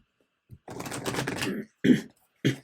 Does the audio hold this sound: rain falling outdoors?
no